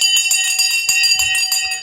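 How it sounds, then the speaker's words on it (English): Bell rings repeatedly during a live stock market show, bright metallic strikes in quick rhythmic succession with sustained ringing tones, loud and close. "Just wanted to ring the bell for you."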